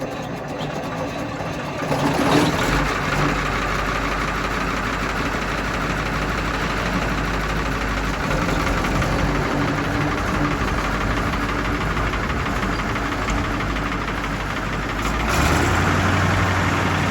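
A Massey Ferguson 1800 tractor engine runs continuously in a deep, heavy, steady drone with a slight knocking texture, rising in load a couple of times, rigged up to pull a chisel plow.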